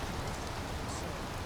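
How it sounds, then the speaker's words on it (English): Light rain as a weather effect in the video game Skyrim Special Edition, a steady, dense hiss of falling drops with a soft low rumble, continuous and even throughout. "we should have light rain. At least it should start with light rain. Yeah, here it is."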